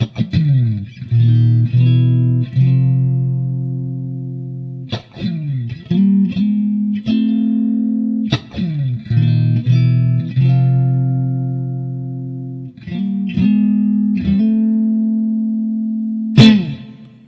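A Fender Eric Johnson signature electric guitar plays clean-toned notes and chords with light reverb, ringing phrases in a steady rhythm with brief gaps between them, close and clear, with no talk.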